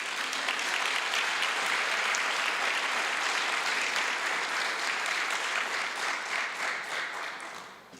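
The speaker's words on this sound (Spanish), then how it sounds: "Yo creo que le podemos dar un aplauso." An audience at the closing of a free trade zones congress applauds for about eight seconds, a dense steady roar of clapping that holds evenly and then tapers off near the end.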